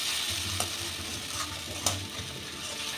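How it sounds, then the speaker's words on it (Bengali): Sago pilaf being stirred in a pan over low heat, with steady soft sizzling and a couple of sharper scrapes of the spoon against the pan, close and moderately quiet, with no talking. "দিয়ে একদম সিমে করে"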